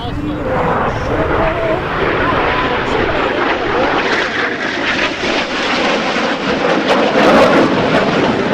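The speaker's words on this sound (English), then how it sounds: "You still got your T-38 up there, and they are putting on a heck of a show for you as well" A T-38 Talon jet trainer performs at the Wings Over Whiteman 2024 air show, its engine roar continuous and loud throughout, with an announcer talking over it.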